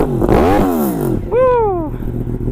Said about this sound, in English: Let's listen to these sweet bikes start up. R1M first.